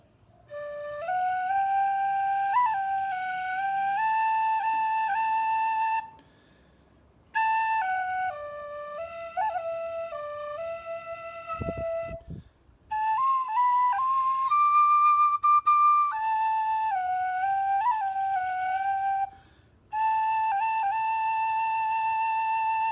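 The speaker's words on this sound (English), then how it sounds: "it's got a great tone to it, and it's quieter than the other whistles I've come across" A Clarke Original tin whistle in D plays a bright, breathy melody with several short pauses between phrases, close and clear, no voices.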